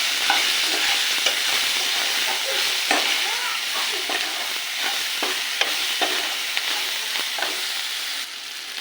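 Lentils and spices, including salt, turmeric and roasted cumin, sauté in a pan for hilsa-head mung dal, a loud constant sizzle with repeated scraping and tapping stir strokes close by.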